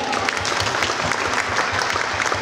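Steady, dense applause from an event audience at Taikoo Hui fills the whole stretch, loud and continuous with no pauses.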